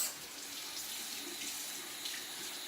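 Tap water runs steadily into a sink for rinsing the face after a shave, a continuous close hiss and splash with no speech.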